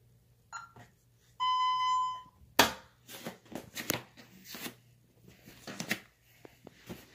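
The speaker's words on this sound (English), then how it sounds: "I'm gonna arm it so we can do the fire alarm test." An alarm system sounds a steady high beeping tone for under a second during a fire alarm test, followed by clattering, handling noises and scattered knocks.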